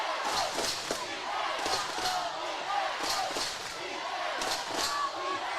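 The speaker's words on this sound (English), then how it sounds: "This crowd is loud." A loud crowd roars through a U15 women's basketball game between Tonga and Samoa, with swelling cheers, sneaker squeaks and thuds of the ball on the court, and a commentator talking over the noise.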